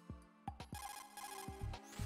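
A phone rings in the video game Metal Gear Solid 2: Substance, a short run of electronic ring tones repeating in quick pulses, close and clear with no talking.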